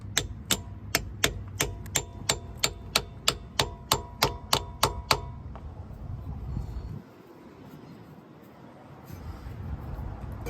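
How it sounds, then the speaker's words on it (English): Screwdriver handle tapping a transmission shift solenoid into the valve body of a 2006 Dodge Dakota 4.7L, about fifteen sharp, evenly spaced taps close up, then quiet shop ambience. "use the other end of a screwdriver and tap it up in there"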